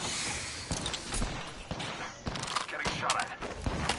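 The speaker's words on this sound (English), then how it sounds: "Oh, I'm getting shot at." Gunfire from a video game firefight, several sharp shots and short bursts scattered across the moment, heard under players talking over a busy game mix.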